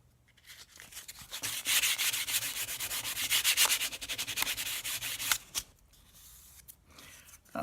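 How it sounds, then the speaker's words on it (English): Acrylic pieces being hand sanded with sandpaper, a steady close scratchy rubbing in quick back-and-forth strokes that stops near the end, leaving a few faint taps. "I'll lightly touch these up with a sandpaper"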